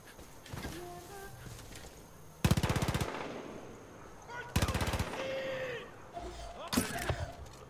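Gunfire in Far Cry 5 as a player shoots out a car's steering wheel: three loud bursts of rapid automatic shots, each about half a second long, spaced through the scene over game ambience and muffled voices.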